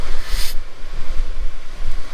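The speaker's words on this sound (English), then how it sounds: "It's blowing so hard the rain is actually travelling upwards" Strong gale blowing across a beach on the Stallingborough sea wall during winter cod fishing, rough wind gusts thumping the microphone with a brief hissing rush of wind-driven rain, loud and close.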